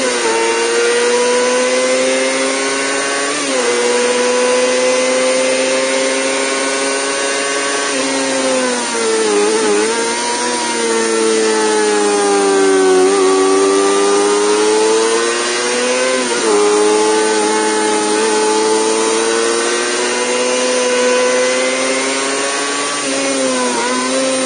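A 2020 Kawasaki ZX-25R 250cc motorcycle engine revs high and loud close by, holding a screaming pitch with repeated dips and climbs as the throttle is blipped over a long continuous run, with no talking.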